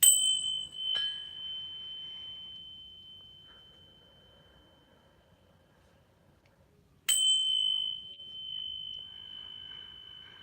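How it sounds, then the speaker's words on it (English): A small ringing bell struck twice to open a tarot reading, each strike a bright sustained ring that decays slowly, the second arriving after several seconds of near silence. "Now that the bell has been rung"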